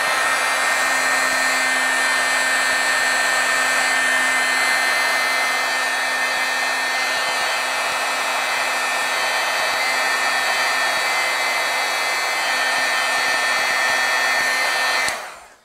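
A heat tool heat-setting pigment ink on vellum blows a loud, steady, close whirring roar with a constant whine throughout, cutting off abruptly at the end.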